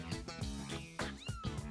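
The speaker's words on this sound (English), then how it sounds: "I heard these little meowing sounds." Several small kittens meow in quick, high, repeated calls, close and clear, with short pauses between cries and no talking.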